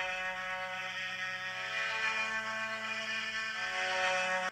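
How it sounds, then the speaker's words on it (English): Omnisphere's Bark Cello Sustain Arco preset plays a slow, melancholic sustained string tone, one long bowed note held steadily at even loudness with rich overtones, no talking. "there's a preset called Bark Cello Sustain Arco, which on its own sounds like this"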